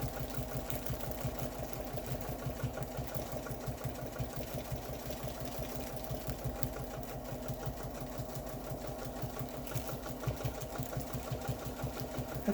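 A domestic sewing machine running slowly while pantograph quilting, a steady close mechanical chugging with an even rapid needle rhythm that keeps on without pause, no voices.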